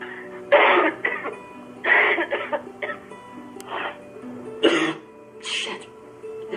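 A man coughs and clears his throat in a film scene, several harsh bursts in uneven succession, fairly close and loud over a quiet background.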